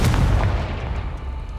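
A Confringo blasting spell goes off in the video game Hogwarts Legacy as a loud, deep explosive boom with a short rumbling tail that fades over a second or so, heard alone.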